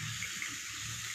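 A Wagyu steak, fat side down, searing in an oiled pan, giving a steady dense hiss with a faint low rumble underneath, close and continuous over a brief moment, with no voices.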